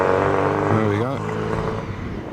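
Steady engine and road hum from a classic car being driven, with a brief rising-and-falling pitch sweep midway, heard over a continuous close drone.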